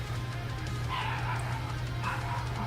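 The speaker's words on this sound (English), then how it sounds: "I'm sorry if you hear my dogs barking, but they're gonna keep doing it" Dogs barking in a home, a couple of bursts of yips and woofs at mid distance over a steady low electrical hum, with no talking.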